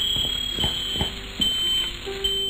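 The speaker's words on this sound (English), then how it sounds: "The fire alarm's going off." A fire alarm blares in the Whack The Burglars video game, a steady shrill electronic tone holding loud and unbroken, with soft low thumps underneath.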